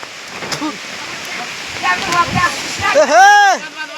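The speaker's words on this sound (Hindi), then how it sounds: "भयंकर वर्षा" Heavy rain hisses steadily in a village setting as people shout over it, the broad wash of water running throughout beneath loud, urgent voices.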